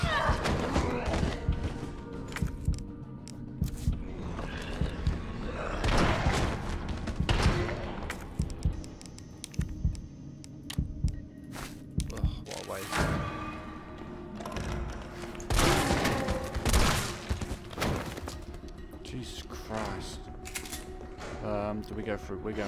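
Repeated gunshots against enemies in Resident Evil 3 Remake, sharp cracks and thumps firing in irregular clusters over game ambience, with someone talking between the shots.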